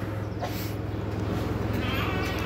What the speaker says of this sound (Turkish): Burada erkek toklu ve koçlar.